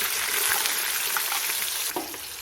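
Onions dropped into hot oil with cumin seeds, giving a steady, close, loud sizzle across the whole stretch, with a brief burst of spatter near the end as they hit the pan.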